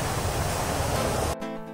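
Water from a large irrigation sprinkler on open farmland hisses and patters in a continuous close wash of spray, then cuts off abruptly near the end.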